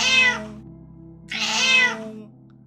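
A cat meows twice, two clear and drawn-out cries close by, separated by a short pause over a low steady hum.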